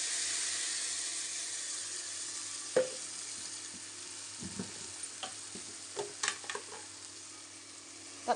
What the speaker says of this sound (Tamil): நம்ம அரைச்சி வச்ச தக்காளி சேர்த்திக்கலாம்.